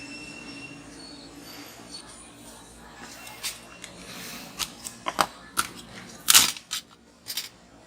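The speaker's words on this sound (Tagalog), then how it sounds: "Tanggalin yung mga tornilyo." Screws being removed from an HP EliteBook 840 laptop during repair, heard as a series of sharp metallic clicks and squeaks that grow louder and more frequent toward the end, over a faint background hum.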